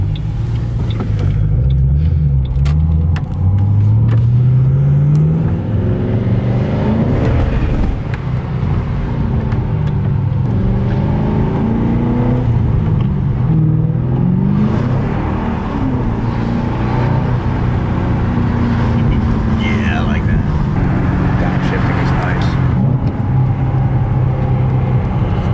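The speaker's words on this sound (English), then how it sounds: "it has exhaust. Hear us coming through." A Ford Mustang GT's exhaust rumbles steadily on a test drive in wet weather, a loud, close, deep drone that rises and falls with throttle through several gear changes, with road noise underneath.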